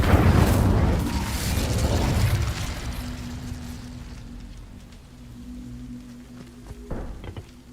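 An Incendio fire spell in Hogwarts Legacy bursts out with a loud whooshing, crackling blast, then fades into a softer crackle and low hum, with a brief sharp pop near the end.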